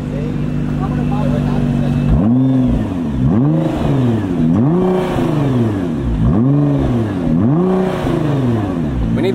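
A Nissan GT-R R35 engine held back by a rev limiter, with a steady idle followed by five rhythmic revs that each rise and fall sharply, loud and close.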